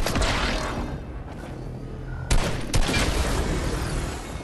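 Video game gunfire bursts in rapid volleys under a dense, loud battle mix, with two sharper shots standing out near the middle and no voices.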